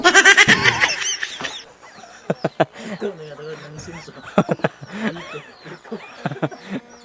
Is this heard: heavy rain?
no